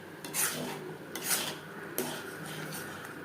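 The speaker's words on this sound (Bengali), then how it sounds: "অবশ্যই এভাবে নাড়াচাড়া করতে হবে, না হলে তলা লাগবার সম্ভাবনাও থাকতে পারে।" A spoon scrapes and rubs around a pan of thickening chocolate ice cream mixture, a few slow rasping strokes roughly a second apart, soft and close with no talking.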